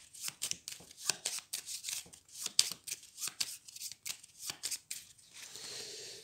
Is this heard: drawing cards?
yes